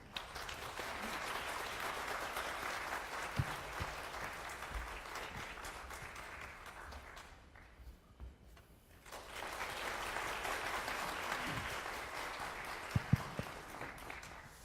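An audience at a humanities lecture in Ulsan applauds to welcome the lecturer, a sustained wash of clapping that dips briefly into near silence midway, then resumes just as full before ending.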